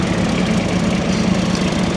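A tractor engine runs at a steady idle nearby while garden beds are being moved, giving a loud continuous low rumble with a throbbing vibration, with no voices.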